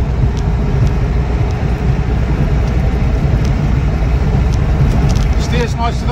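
A Land Rover Defender 90 300Tdi pickup drives along a road, giving a continuous rumbling engine and road drone from inside the cab, with a voice talking over it.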